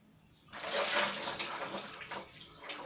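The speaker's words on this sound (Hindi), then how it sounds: "पानी गिरेगा, स्फीयर डाल दिया मैं" Water spilling from a filled container as a sphere is dropped in, a sudden gushing splash that starts abruptly and keeps running as a steady trickling pour, close and moderately loud.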